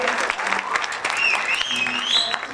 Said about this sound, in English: give Irvin and Selena another round of applause for doing double solos there